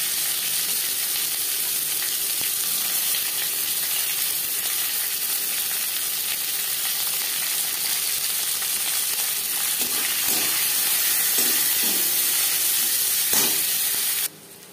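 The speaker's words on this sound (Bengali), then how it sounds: "পেঁয়াজ লালচে করে ভাজা হয়ে গেছে।" Chopped onion frying in oil with bay leaf and five-spice for dal fry gives a steady, fairly loud sizzle and hiss throughout, with a few soft stirring knocks near the end.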